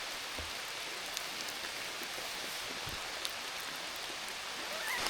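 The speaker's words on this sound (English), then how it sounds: "it's pouring rain" Heavy rain pours steadily in the mountains of the Three Ridges Wilderness during a morning backpacking trip, a dense, even hiss of close drops with occasional louder splats and no voices.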